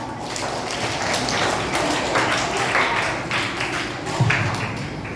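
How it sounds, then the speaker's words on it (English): A group of children clapping together at a school road safety session, a steady dense patter of hands filling the room with continuous applause. "Give a clap."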